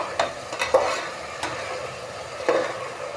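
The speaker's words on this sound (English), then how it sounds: "The tomato we get fried very nicely" Tomato frying in a pan, a low constant sizzle with a few spatula taps and scrapes at irregular intervals, close up and fairly quiet, no one speaking.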